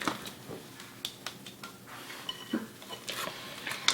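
Spatula scraping and mashing ripe bananas in a large bowl for banana cake, with soft irregular clinks and squishes. The sounds are close and faint, with no talk over them.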